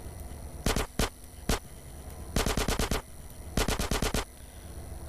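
Video game gunfire from an AK-47 and a Micro SMG in GTA San Andreas comes in short, loud bursts: a few single shots, then two rapid volleys of about six rounds each, with no speech.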